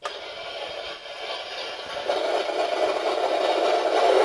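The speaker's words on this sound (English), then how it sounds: "that is the engine noise, and it moves with the throttle" Simulated engine sound from a Heng Long King Tiger 1/16 scale RC tank, a steady mid-pitched electronic rumble at close range that rises in level partway through as the throttle increases.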